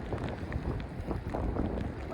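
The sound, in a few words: wind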